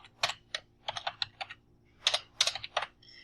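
Keys on a computer keyboard are tapped in quick uneven bursts as a file name is typed, crisp close clicks in two short clusters with a pause between.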